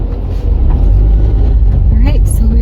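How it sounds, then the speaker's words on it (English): Rush-hour road traffic heard from inside a car: a loud, steady low rumble of engines and passing vehicles, with a brief higher tone near the end. "so the road is full of traffic"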